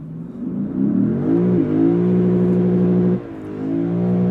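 A 2025 Lexus IS 500 revs hard while brake torquing, its engine roaring up and holding a strained high note, then dropping sharply before settling into a steady, loud growl; no voices.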